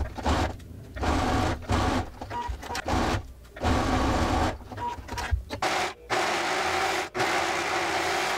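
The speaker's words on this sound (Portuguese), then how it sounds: "e vou fechar aqui uma costura no ombro." A domestic sewing machine stitches the shoulder seam of a blouse in repeated motor-driven bursts, the whirring runs stopping and starting with brief pauses between them, close and fairly loud.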